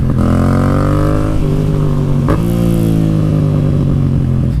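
A motorcycle fitted with a performance air filter revs hard through first gear, its loud, close engine note climbing steadily with a brief shift-like break midway, no talking over it.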